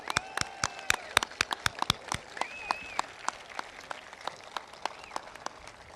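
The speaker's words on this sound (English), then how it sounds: "So how about a nice round of applause for the employees at Twin River?" Scattered applause for employees at Twin River: a small audience gives sparse, separate claps in an uneven rhythm that thin out toward the end, with faint whistle-like tones in the background.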